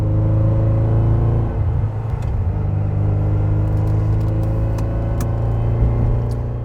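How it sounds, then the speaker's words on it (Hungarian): An Italian sports car's V8 engine with eight small pistons rumbles loudly and steadily at close range, holding a smooth even drone with a slight shift in pitch, no voices. "szinte nincs rezonanciája ennek a motornak, ugye 8 henger, nagyon kicsi dugattyúkkal."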